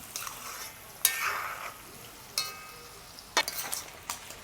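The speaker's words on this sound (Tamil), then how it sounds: "எனக்கு இறால் வந்து ஒரு 3-4 நேரம் பொரிச்செடுக்கணும்" Prawns deep-fry in a pan, a light hissing sizzle punctuated by a few sharp clinks and scrapes as a spoon stirs them, close and intermittent with quiet gaps between.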